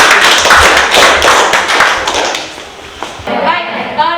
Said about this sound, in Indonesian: tepuk tangan buat keempat temanannya.